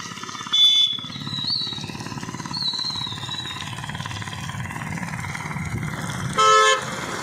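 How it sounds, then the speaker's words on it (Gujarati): Traffic moves along a busy highway with a steady vehicle rumble, while car horns toot in two short loud blasts near the start and end plus fainter honks in between. "આ છે હાઈવે આવી ગયો છે અને બહુ ગાડીઓ ફરે છે"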